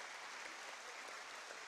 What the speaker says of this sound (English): please give them rounds of applause